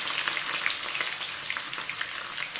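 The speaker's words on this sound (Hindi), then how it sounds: "बिस्मिल्लाह करके प्याज डालते हैं और इनको करते हैं फ्राई।" Sliced onions dropped into hot oil for a daal kofta curry sizzle in a steady, dense crackle, close and fairly loud, with no voice over it.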